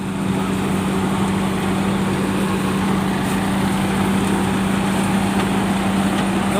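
A tractor-powered thresher running steadily at a farm in Mandvi, giving a constant engine drone with a low, even hum and no breaks, heard alone without talk.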